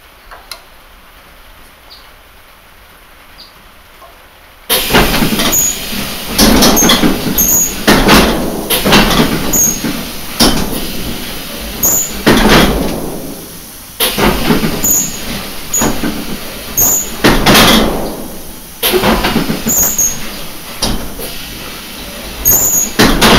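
Striking snake prop mechanism lunging again and again, each strike a loud clattering burst with thin high squeaks, close by, in an uneven rhythm after a few quiet seconds.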